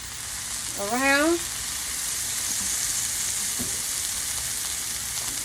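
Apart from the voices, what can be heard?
tomatoes sizzling in a pan with olive oil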